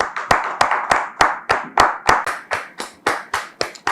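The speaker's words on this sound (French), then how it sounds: "Merci de recevoir nos visiteurs de la soirée sous vos applaudissements" Loud, rhythmic clapping in unison at an evening church gathering welcoming visitors: about fourteen sharp, evenly spaced claps, close and distinct, with no talk.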